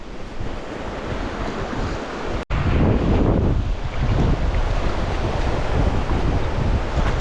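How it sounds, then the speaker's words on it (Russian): Rough sea surf crashes and churns continuously while strong wind buffets the microphone, loud and close, broken by a brief cut partway through. "Видите, какая волна?"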